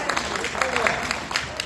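Audience clapping at an outdoor autumn music concert in a Korean market, a brief burst of scattered claps under crowd noise and voices.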